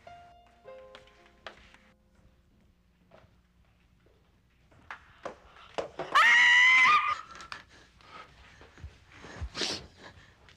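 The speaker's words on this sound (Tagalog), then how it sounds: "Sino sumigaw?" One person lets out a sharp, loud scream lasting about a second in the middle of an otherwise quiet scene of scattered movement and light taps, from a Filipino television drama.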